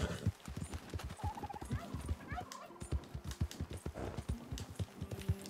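Horse hooves clip-clop at a steady walking rhythm in Red Dead Redemption 2, close and fairly loud, with scattered game ambience around them and no speech.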